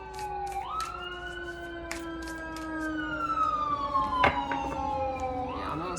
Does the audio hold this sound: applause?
no